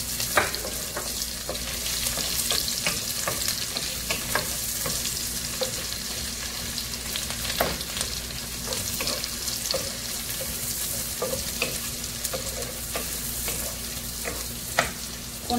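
Onions fry in a pan with a steady close sizzle and crackle, accompanied by frequent light stirring clicks and scrapes throughout, without speech.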